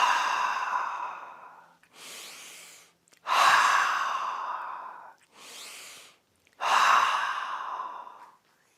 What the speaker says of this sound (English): Take 1, 2, or 3 deep breaths.